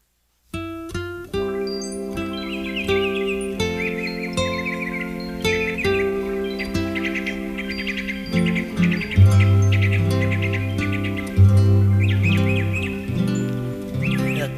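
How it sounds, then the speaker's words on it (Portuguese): Birds chirp and trill over steady sustained musical tones, with bright repeated tweets running throughout at moderate loudness and no one talking. "Até os passarinhos estão alegres, né?"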